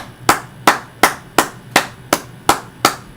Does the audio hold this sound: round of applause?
yes